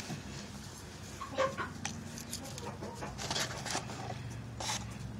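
Four hens sitting in a backyard coop's nesting box make soft, intermittent clucks and murmurs close by, with occasional louder squawks over a steady low background.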